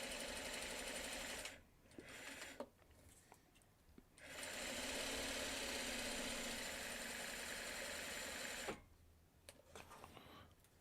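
A sewing machine runs a quarter-inch seam in steady bursts, its needle chattering close and even, pausing briefly twice before a long continuous stretch of stitching and a final stop.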